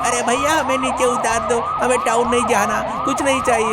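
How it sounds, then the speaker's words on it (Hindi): A wailing police siren sweeps up and down repeatedly, loud and close, while a man pleads over it and engine noise rumbles underneath. "पुलिस वाहन में बैठकर उनका पीछे निकल पड़े। सायरन की आवाज"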